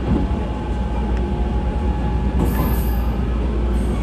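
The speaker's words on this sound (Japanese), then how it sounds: "さらに今走っているのが名鉄線と飯田線の共用部分です。" A train runs on the shared Meitetsu and Iida line track near Toyohashi, heard from inside as a steady loud rumble of wheels on rail with a thin high squeal creeping in partway through.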